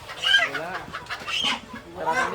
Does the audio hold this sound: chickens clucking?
yes